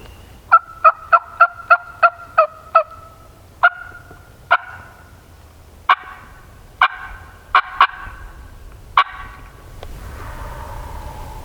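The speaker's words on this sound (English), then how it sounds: "Hit the call on the first scratching and bird gobbled right here." A wild turkey in a Missouri creek bottom answers a call with loud, sharp gobbles. A rapid burst of repeated notes is followed by several spaced single gobbles, and then a quieter, noisy stretch.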